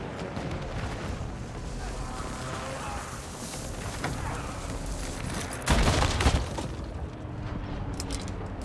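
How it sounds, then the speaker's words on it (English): Airstrike explosions in Call of Duty: Modern Warfare II, a dense rumbling barrage with a heavy close blast partway through, under radio-style voice callouts. "Hostiles called in an airstrike."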